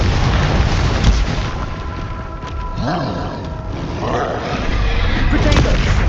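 Explosive blast from the Bombarda spell in the Hogwarts Legacy video game, a loud rumbling boom with roaring, crackling debris and combat effects continuing around it.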